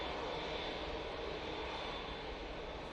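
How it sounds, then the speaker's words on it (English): An Ethiopian Boeing Dreamliner turns onto final approach at Manchester Airport, its engines giving a constant, even whine-and-rush, moderately distant and unbroken, with no talking. "Ethiopian Dreamliner again today, turning on to finals."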